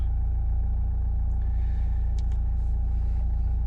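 A Nissan Juke 1.5 dCi diesel engine idles steadily with a low, constant rumble throughout, and a few faint clicks and rustles sit above it.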